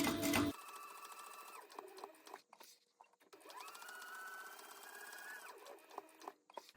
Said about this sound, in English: And then I'm just going to top stitch all the way around the wallet.